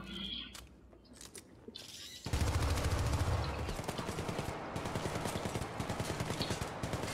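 Rapid automatic gunfire blasts at a combat droid in the Syndicate video game, starting after a few scattered shots with a sudden loud burst at about two seconds and continuing as sustained, rhythmic bursts to the end.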